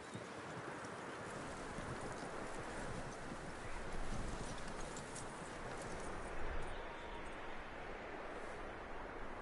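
Horse hooves clip-clop steadily across the whole stretch in Red Dead Redemption 2, a continuous rhythmic patter beneath wind and rustling ambience, with no one talking.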